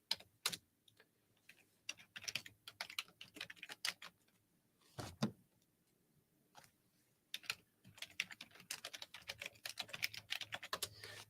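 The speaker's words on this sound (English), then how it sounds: "Sorry for the typing. I know that sounds annoying." Fingers type on a computer keyboard nearby, bursts of quick clicks broken by short pauses, faint and without speech.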